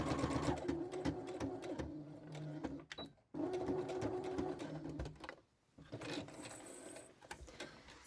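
Sewing machine stitching a skirt facing, a close, fast mechanical whirring in several runs broken by brief pauses where the stitching stops.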